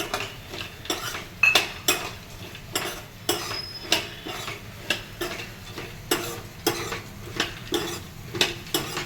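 A utensil repeatedly clinks and scrapes against a pan while chopped pistachios and cashews are stirred and dry-roasted over a medium flame, with steady, fairly quiet taps about every half second and no voices.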